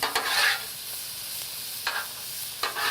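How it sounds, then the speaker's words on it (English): Sliced peppers blister in melted butter on a backyard cheesesteak griddle, a constant close sizzle broken by a few brisk spatula-stirring scrapes. "Peppers are starting to blister, which is good. Just keep mixing them up."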